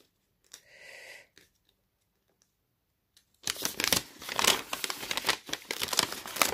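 Kraft paper bags being handled, a brief soft rustle and then a sustained close crinkling and crumpling of stiff paper, no speech.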